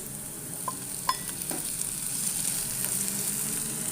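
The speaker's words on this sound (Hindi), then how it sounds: "अब मैं इसके अंदर 1 छोटे साइज का चॉप किया हुआ टमाटर डाल दूंगी।" Chopped tomato added to softened sautéed onions in a pan for dhaba-style egg ghotala, a soft sizzle with a few clinks of a spoon stirring early on, quiet and close, no voices.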